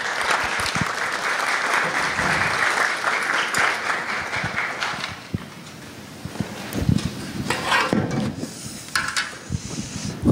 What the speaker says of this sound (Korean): 우리 서정필 형제님 나오실 때 큰 박수로 환영해 주시면 감사하겠습니다